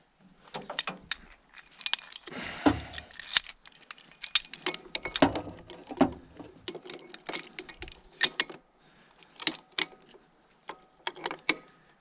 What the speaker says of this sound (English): Then use the pulley puller.